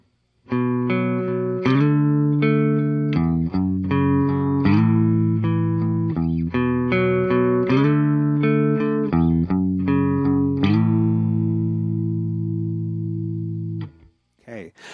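Clean-channel electric guitar played through an amp and captured on an SM58 microphone, strummed chords ringing in a steady rhythmic pattern, loud and close, ending with a final sustained chord that fades out.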